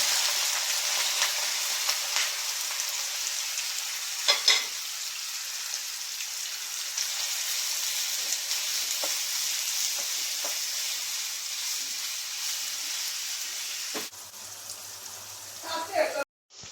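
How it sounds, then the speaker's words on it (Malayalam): Sausages fry in hot sunflower oil with a dense, steady sizzle like heavy rain, a few clicks along the way, then brief clatter near the end. "ഇനി നമുക്ക് സോസേജ് ഇട്ട് ഇത് വറുത്തെടുക്കാം"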